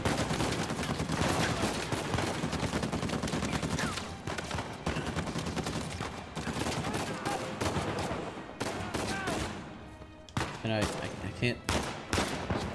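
Sustained rapid gunfire in Uncharted 4 aimed at an enemy turret, dense overlapping bursts and loud shots filling the whole stretch with brief gaps near the end, a player talking over parts of it.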